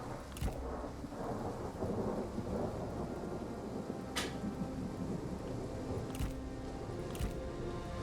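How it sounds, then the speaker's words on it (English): Rain falls steadily in a Total War Three Kingdoms battle, a dense hiss under low rolling thunder, with a few sharper cracks breaking through at intervals over the continuous downpour. "It's a rainy day."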